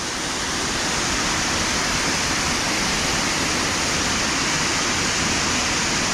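Gayle waterfall swollen with extra rainwater runoff, a steady loud rushing roar of falling water that holds constant throughout, close by and with no voices.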